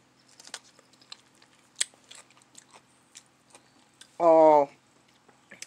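Soft crunchy chewing and small clicking bites up close on pickled vegetables, followed by a brief hummed vocal sound.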